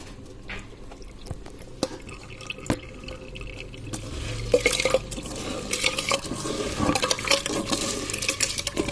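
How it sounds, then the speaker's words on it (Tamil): Rice poured into a pot of water for sambar gives a soft, wet splashing and trickling, quiet at first and fuller and busier over the second half, with scattered small drips and clinks. "நான் இப்போ அரிசி போட போகிறேன்"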